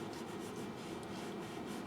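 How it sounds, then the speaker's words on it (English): Coarse 100-grit sandpaper rubs steadily over a rock-hard surface, giving a continuous faint, close scratching hiss with no pauses. "So I'm going to go ahead and start sanding."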